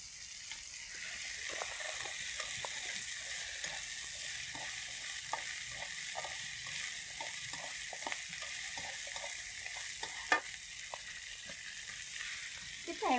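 Baby corn sizzles and fries steadily in a pan at a vegetarian restaurant, a continuous close hiss broken by scattered spatters, stirring clicks and one sharp pop near the end.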